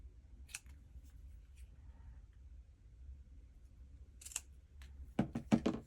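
A few crisp scissor snips sound nearby in a quiet room while making a card, with a quick cluster of sharper cuts and handling noises toward the end.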